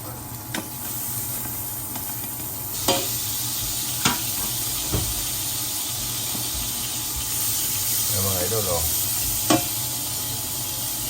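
Margarine sizzling in a pot for mussel sisig, a steady close frying hiss with a few sharp pops and a brief stirring scrape, no talking.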